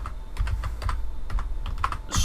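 Rapid typing on a computer keyboard, a run of close, crisp key clicks in uneven bursts, with a louder clatter at the end and no talk.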